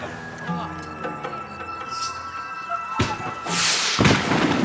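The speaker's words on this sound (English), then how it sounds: "The fireworks display was clearly in my honor" Fireworks going off in the video game Max Payne 3, sharp bangs and crackling bursts over a busy game soundscape and background talk, growing louder and denser toward the end.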